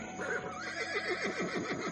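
A horse whinnies in a long, wavering neigh with rapidly oscillating pitch, close and fairly clear over a faint steady background hum.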